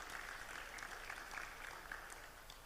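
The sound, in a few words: audience applause for a speaker at conference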